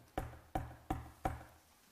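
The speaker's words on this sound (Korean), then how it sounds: "베드로가 드디어 문을 두드립니다" Four evenly spaced knocks on a wooden door, sharp and close, each ringing briefly before the next, with nothing else heard.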